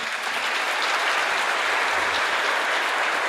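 An audience applauds warmly at an educational symphonic music concert. The clapping is dense, even and sustained throughout, a loud continuous wash with no voices over it.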